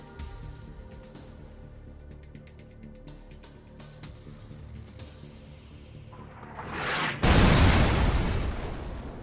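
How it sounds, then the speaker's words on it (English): A loud, heavy explosion erupts near the end as a building is blown apart inside a dark zone in PUBG Mobile, rising over quieter game ambience and lingering as a broad rumble. "inside these zones, buildings will be randomly targeted and potentially completely destroyed"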